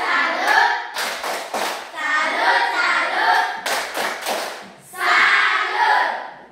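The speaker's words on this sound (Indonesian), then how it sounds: "Tapi kita tepuk salut dulu untuk teman kita" A classroom of children performs a rhythmic clap-salute for a classmate, loud bursts of synchronized clapping and thumps in repeated sections with brief pauses between.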